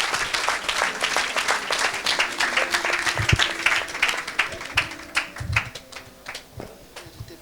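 A church congregation at a service breaks into vigorous, sustained applause, many hands clapping close and steady, with a few louder individual claps standing out as the clapping gradually thins toward the end.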